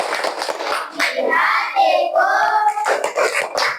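Children in a classroom clap hands in a rhythmic chant during an ice-breaking activity, loud and close, with young voices chanting along over the steady clapping.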